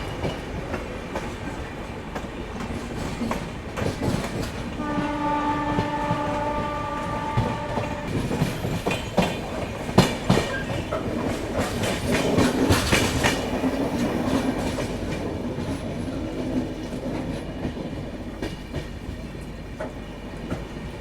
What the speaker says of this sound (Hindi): फिलहाल अपनी ट्रेन ऑलमोस्ट प्रयागराज जंक्शन पहुंचने वाली है